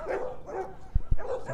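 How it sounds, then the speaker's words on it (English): Dogs bark on a morning walk, a few muffled, fairly distant barks over ambient noise, with two sharper knocks near the end. "So you guys hear the dogs barking."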